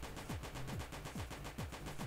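Kalashnikov rifle firing in the zombie game Oh no! Zombies alive, a steady rapid burst of repeated shots with regular rhythm, loud and continuous with no talk.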